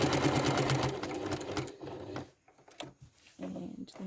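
A sewing machine stitches a quilt seam line on a 16-patch block, running with a steady close whir for under two seconds, then stopping into quiet with a few small clicks and thumps.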